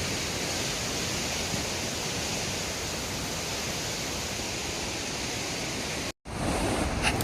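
The rain-swollen Ganges rushes and sprays at Haridwar in a loud, unbroken roar that cuts out briefly near the end before resuming.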